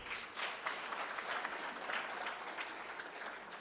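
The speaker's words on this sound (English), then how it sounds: "Can you clap for him?" Guests at a 60th birthday celebration clap for a well-dressed guest, steady, moderately distant applause holding at an even level throughout.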